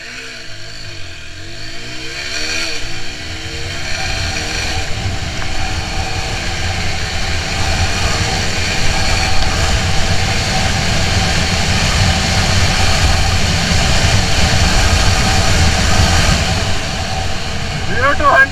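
A TVS Apache RTR 160 4V motorcycle accelerates hard from standstill toward 60 km/h, its engine note rising steadily and staying loud and close throughout, with wind rush building and a voice talking over it.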